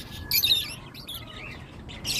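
A pet bird chirps during free-flight training, giving a few short, high, sharp tweets and squawks close by, with quiet gaps between the calls.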